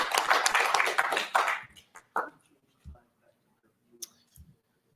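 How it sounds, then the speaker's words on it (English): Brief audience applause at a wildland urban interface fire innovation forum in Kansas City, a dense burst of clapping for about two seconds that thins into scattered claps and fades to near silence. "Let's give them a quick round of applause"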